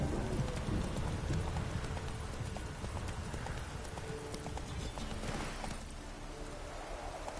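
Horse hooves trot at a steady clip-clop in The Witcher: Wild Hunt, close and continuous over a patter of rain, with a faint voice near the start.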